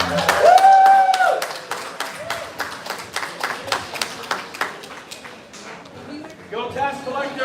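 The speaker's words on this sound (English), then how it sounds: "Please, a round of applause for Jeffrey Pram." Applause and scattered clapping rise after a speaker introduction at an LA County holiday reception and donor advisory board installation, loud at first and then thinning to irregular claps, with voices and cheering mixed in.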